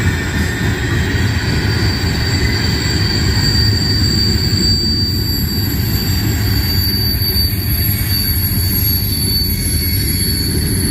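A Norfolk Southern freight train rolls past at night on the Conemaugh Line in Creighton, Pennsylvania, a steady loud rumble of railcars with thin high wheel squeal running throughout, no talking.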